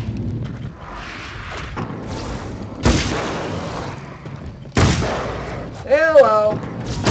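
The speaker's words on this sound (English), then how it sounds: "Time to get out the big gun." A big gun fired in the video game Alan Wake's American Nightmare: two loud, sharp blasts a couple of seconds apart over rumbling game ambience, followed by a brief warbling tone.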